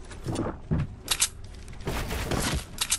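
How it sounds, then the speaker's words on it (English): Bursts of rapid gunfire in Fortnite Battle Royale shooting at player-built structures come in several short clusters with brief gaps, sharp and close, mixed with impact clatter. "Alright, I'm shooting down the builds."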